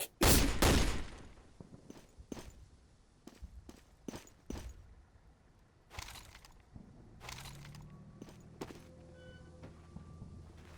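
Gunfire from a gun mounted in Garry's Mod: a loud opening burst, then scattered sharp single shots and thuds spread irregularly across the stretch, with a low hum settling in near the end.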